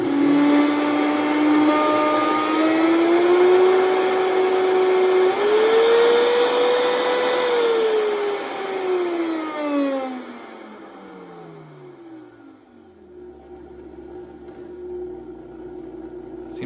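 A Vitamix 5200 blender with a faulty speed control runs with a loud, close motor whine that rises and falls in pitch as its RPMs pulse, then winds down toward a low hum.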